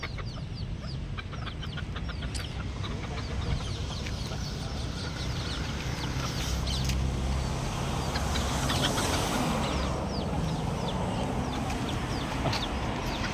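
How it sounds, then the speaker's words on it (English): Free-range chickens cluck repeatedly amid steady outdoor background noise, with short bird calls scattered throughout at moderate distance. "Free range chicken."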